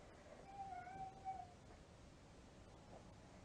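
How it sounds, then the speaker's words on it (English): A cat on a farm makes odd, strained meowing noises, a few faint wavering cries in the first second and a half, then quiet background. "That cat's making some weird noise."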